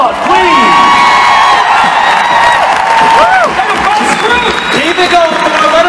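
A concert crowd at a Mother's Day show in Mankato, Minnesota roars with loud, continuous cheering, shrill whoops and whistles over dense applause, filling the room without pause.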